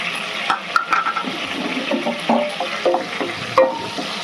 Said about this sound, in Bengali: একটা তেজপাতা আর এই গরম মশলাটা ফোড়ন দেবো।